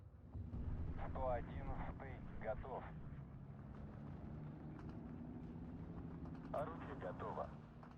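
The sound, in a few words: Yak 7B aircraft strafing run in video game Steel Division 2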